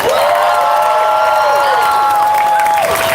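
Crowd at an outdoor Free Palestine march in Denver cheering and applauding, a loud continuous roar of clapping and shouting with a whistle-like tone sliding over it, steady throughout.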